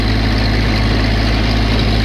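A tractor engine runs at a steady low rumble just under 2.5 thousand RPM while creeping along tilling a garden, loud and close, with a constant drone and no talking.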